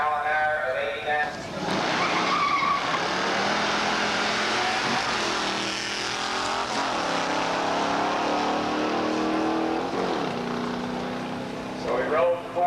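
A 1985 muscle car with a four-speed manual drag racing down the strip at Beech Bend, its engine roaring and climbing through gear changes at a distance, with an announcer talking over it.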